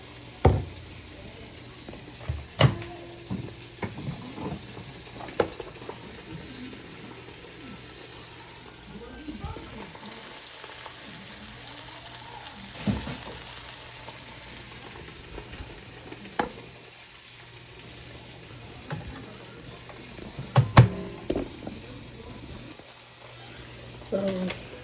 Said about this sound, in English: Got the steaks going.